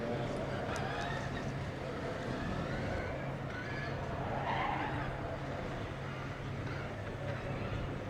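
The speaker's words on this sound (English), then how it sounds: "Hear the throttle being actuated by the computer, revving up and down." A driverless Formula Student race car engine revs up and down repeatedly under computer-controlled throttle at an autocross event, a continuous droning rumble rising and falling under faint background chatter.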